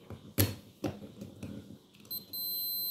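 Electrical contactor being pressed by hand during a continuity test, sharp clicks followed by a tester's steady high electronic beep that starts near the end and holds.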